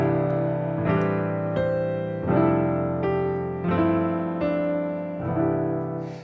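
Rich extended piano chords are struck one after another, six sustained chords at a slow, even pace, each ringing out full and close before the next is played, with no voices.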